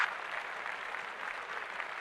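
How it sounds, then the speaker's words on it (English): Short round of clapping from a few people, moderately quiet and steady, with no talking over it. "Let's clap that up"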